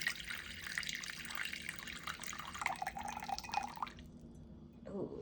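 Warm water running from a tap into a container for sourdough bread dough, a steady splashing pour for about four seconds that then stops, with faint handling noises after.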